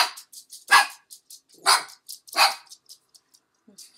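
A pet female dog barks several times in sharp bursts, close and fairly loud, with short pauses between barks and no talking.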